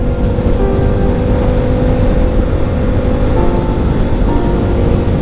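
Steady, loud engine drone from a KTM Super Duke 990R motorcycle, a continuous low rumble with even harmonic lines and no breaks, heard alone with no voices.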